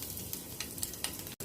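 Crushed garlic cloves, about ten to twelve, sizzle in hot oil with black cumin and a dried red chilli, a steady close frying hiss with light stirring scrapes and a brief cutout near the end.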